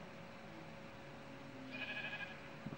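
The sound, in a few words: sheep bleating in video game Minecraft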